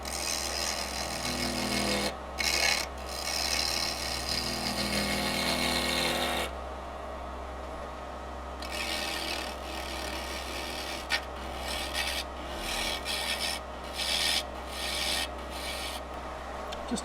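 A 5/8 inch bowl gouge shaves a small live-edge wood pot spinning on a lathe, producing long rough scraping passes over a constant low motor hum, with short gaps between cuts, close and without talk.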